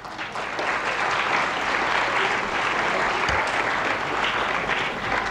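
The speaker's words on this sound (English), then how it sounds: "Let's welcome us all with a round of applause." An audience at the BICON 2017 event gives a sustained round of applause, a dense, loud, steady wash of many hands clapping that fills the whole stretch with no voices on top.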